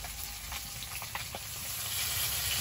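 Fish fries in a pan with a steady, bright sizzle and small crackling pops, close and fairly loud, continuing unbroken throughout without any voices.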